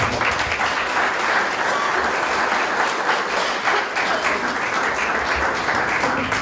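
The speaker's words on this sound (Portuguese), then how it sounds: "uma calorosa salva de palmas" A church audience at a Santo Amaro vigil breaks into steady, warm applause, dense clapping sustained evenly at full volume throughout with no one speaking over it.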